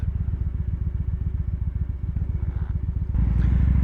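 A 2016 Victory Judge motorcycle with performance exhausts idling close by, a loud, lumpy, rhythmic V-twin burble that swells slightly louder near the end.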